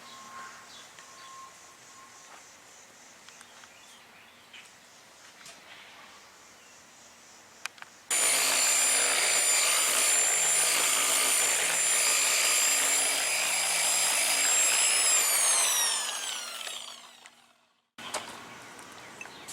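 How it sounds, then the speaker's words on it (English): Sanding car bodywork on a boxy Chevy Caprice LS Brougham with 180-grit paper to prep for primer: a loud, steady, hissing power-sanding roar runs for about ten seconds after a quiet start, then cuts off abruptly. "Just gonna sand it down just so the primer will stick."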